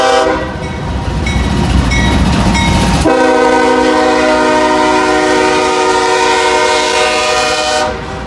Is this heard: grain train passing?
yes